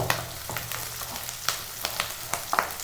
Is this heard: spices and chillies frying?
yes